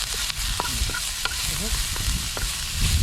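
Ginger sautéing in hot cooking oil, a loud steady sizzle with scraping stirs of a utensil, close up, with no talking.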